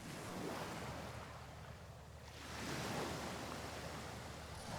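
Ocean waves wash onto the shore in a steady, broad roar, swelling twice and easing between, with a faint wind rumble underneath and no voices.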